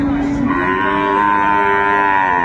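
A dairy cow and her calf at Aftabganj cattle market in Dinajpur give one long, loud, drawn-out moo that fills the whole moment, close by.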